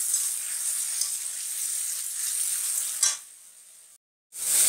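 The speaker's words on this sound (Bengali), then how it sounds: "আর একটু সময় ভেজে নিচ্ছি।" Onion frying in a pan with crushed ginger, garlic and cumin paste gives a steady, fairly loud hiss and sizzle up close, with a short stir, a brief dip, then the sizzle resumes.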